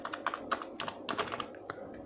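Someone types the word 'computer' on a computer keyboard into a Google search: a quick, close run of light key taps in uneven bursts, heard alone.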